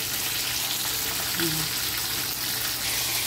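Tilapia fries in a pan with a loud, dense, continuous sizzle. Midway there is a short tonal scrape as the fish is turned over.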